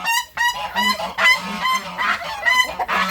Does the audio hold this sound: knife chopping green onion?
no